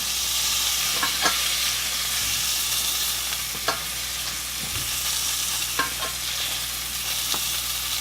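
A thick blackened salmon fillet fries in a hot pan with a steady, close sizzle, broken now and then by a few light scrapes and taps of a utensil.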